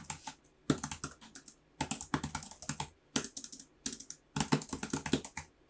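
Typing on the keys of an iPad Pro M4 Magic Keyboard, close and crisp, coming in quick bursts of clicks separated by short pauses.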